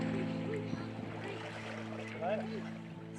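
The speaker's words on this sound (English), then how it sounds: "Mike sets off paddling his canoe away" Dugout canoe paddled away across ocean water, with a soft continuous wash and gentle splashing under a steady low hum, while faint voices murmur in the background.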